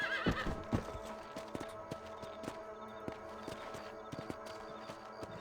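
A horse in the Western game Red Dead Redemption gives a sharp whinny, then its hooves clip-clop in a steady walking rhythm, close and clear, with no talking over it.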